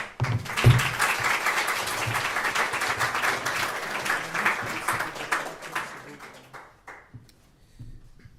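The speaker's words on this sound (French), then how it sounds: "Petit applaudissement." Short audience applause at a Rust programming meetup, a dense patter of clapping from a small crowd that thins out and fades into a few scattered claps by the end.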